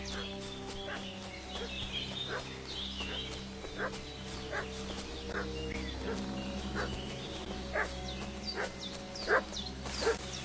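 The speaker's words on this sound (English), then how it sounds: "What's that dog making such a fuss about?" Dog barking and whimpering in Kingdom Come Deliverance 2, repeated short yips and barks at an irregular rhythm from a moderate distance over a quiet outdoor ambience with faint birds.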